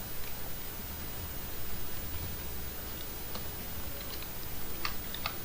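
Quick, light clicks of a computer keyboard typed at a desk while HTML code is written, irregular bursts of keystrokes over a faint steady hiss, close and quiet with no talk.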